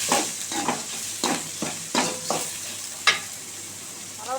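Urad dal and spices frying in hot oil in a pan, a soft constant sizzle under several distinct scraping stirs of a spoon, close and with no talking.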